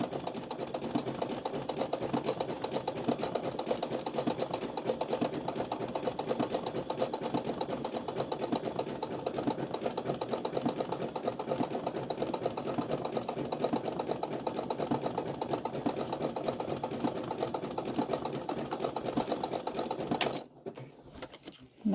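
A sewing machine stitches an appliqué bunny onto a dishtowel, giving a fast, even mechanical patter that runs for about twenty seconds before stopping abruptly.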